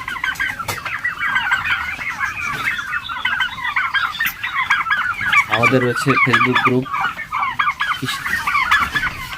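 Turkeys on a poultry farm cluck and gobble in a dense, continuous chorus of overlapping calls, loud and close throughout, with a brief spoken phrase partway through.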